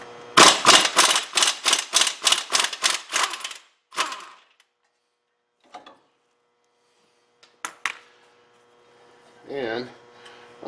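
An impact or ratchet tool rapidly hammers loose 24 mm nuts on the front wheel hub of a 2012 Hyundai Sonata, a fast loud burst of clattering blows, then sparse metallic clicks and knocks with brief pauses.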